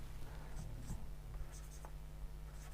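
Pen or chalk writing out a maths problem on paper or board, soft scratchy strokes in short irregular bursts over a constant low hum, close and faint.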